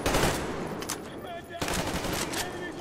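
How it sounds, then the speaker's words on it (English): Sustained automatic gunfire from the Metro Exodus video game on PlayStation 5, loud and dense rapid bursts filling the whole moment with only a brief dip midway. "Man, this shooting. It's no Call of Duty shooting."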